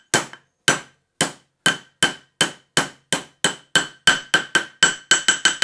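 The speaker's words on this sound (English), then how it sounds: "I'm going to be tapping with the hammer only on the outside ring or race of the bearing." A hammer taps the outer race of a bearing to seat it in a bearing block, about eighteen sharp metallic strikes that start spaced and grow quicker and closer together toward the end, clear and alone.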